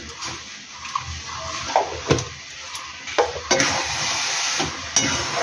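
Sour jujube pickle being stirred in a pan, with scraping strokes of a utensil and a soft sizzle repeating at an uneven pace, close and fairly loud, no voices.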